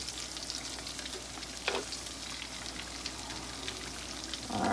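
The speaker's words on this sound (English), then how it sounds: "I'll fry them on each side until they're golden brown" Breaded chicken pieces fry in a pan of hot oil with a steady, dense sizzle and crackle, a few brief louder spatters and clinks popping up near the middle and end, no voices.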